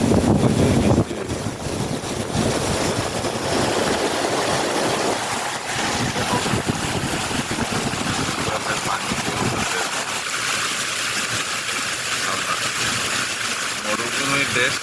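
Rainwater floods the streets of Abu Dhabi after heavy rain, a loud, constant rush of moving water and wind buffeting close to the microphone, with someone talking over it throughout.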